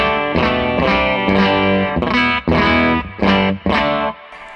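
Electric guitar played through a Fuzzrocious Feed Me pedal set to a 1 kHz boost, with thick distorted chords struck in a steady rhythm of repeated bursts, loud and close, ending in a brief decay.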